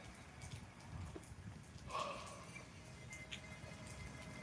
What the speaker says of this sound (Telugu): ప్రస్తుతం వెలిశాల్లో వాతావరణం పరిస్థితి తేలికపాటి వర్షం అయితే ప్రస్తుతానికైతే కురుస్తుంది